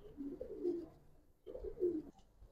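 Racer pigeons give two soft, throaty coos in succession, each a low rolling phrase, close but quiet with no talk.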